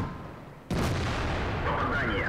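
KV-2 tank cannon firing in World of Tanks: one abrupt, loud, close blast cuts in after a quieter stretch and rolls on as a long rumbling tail, with faint talk and a thin whistling tone at the end.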